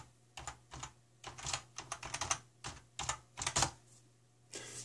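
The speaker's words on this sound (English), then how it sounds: "and we type in the password." A password being typed on a computer keyboard while logging in to PayPal, heard as irregular bursts of close, crisp key clicks over a faint steady hum, with no talking.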